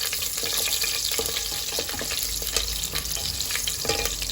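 Cardamom, cloves and slit green chillies frying in hot oil as they are stirred, a continuous close crackling sizzle with light scraping taps throughout.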